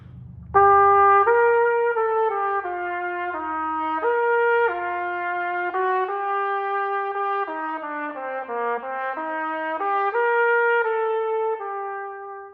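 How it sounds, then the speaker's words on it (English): A trumpet plays a smooth, legato melody, each note held long and flowing into the next, clear and close with no other sounds. "the back of each note is long and connected and open"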